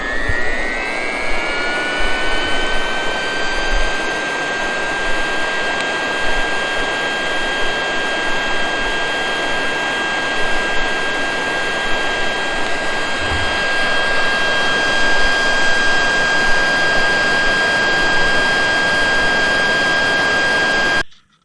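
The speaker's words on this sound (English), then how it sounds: "Use a blower when you get to this point, and then you can really kick it into high gear." A leaf blower fanning a burning brush pile during fall chores gives a loud, steady high-pitched whine with a constant engine drone, running unbroken and close for the whole stretch before cutting off at the end.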